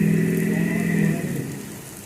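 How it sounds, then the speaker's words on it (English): Steady rain pours down during a thunder shower, a dense even hiss close around, with a low rumbling hum underneath that fades out after about a second. "We're in the middle of a thunder shower."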